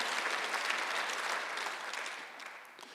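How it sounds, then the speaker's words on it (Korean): A congregation at a Sunday church service applauds, a dense continuous patter of many hands heard at moderate distance, steady for about three seconds before thinning slightly. "박수를 하나 더 해주세요"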